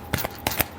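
Tarot cards get a quick final shuffle, a few crisp riffling flicks close by in under a second, with no speech.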